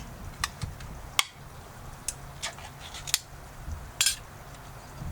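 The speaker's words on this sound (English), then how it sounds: "Let's pop open this Maui onion and garlic macadamias" A bag of Maui onion and garlic macadamia nuts being popped open, with a series of sharp crinkly rustles and snaps spread over a few seconds, close up and with no one talking.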